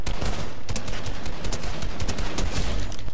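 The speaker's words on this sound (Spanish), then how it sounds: "La ametralladora ligera, la Valencia" Light machine gun firing in Fortnite, a sustained rapid burst of loud, dense shots running continuously without pause and no talking.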